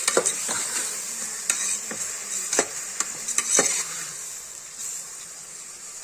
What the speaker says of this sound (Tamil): இதை நம்ம எண்ணெயில் வதக்கிக்கலாம் அந்த நெ நம்ம நெய்யோ பட்டரும் போட்டோம் இல்லையோ அதில் வதக்கிக்கலாம்